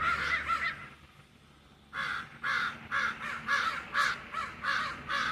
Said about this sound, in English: Those are Maggie's crow friends.